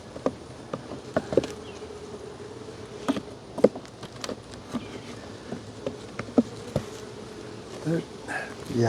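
Honey bees buzz around an emptied hive box frame during a hot-weather honey harvest, with scattered close insect passes and light handling knocks over a low, steady hum.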